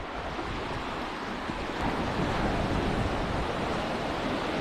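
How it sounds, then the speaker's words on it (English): Ocean waves roll and collide near an island off Zambales, Philippines, a broad continuous wash of surf mixed with wind rumble, steady and loud, swelling slightly midway. "You got waves coming from this direction and you have waves coming from the right."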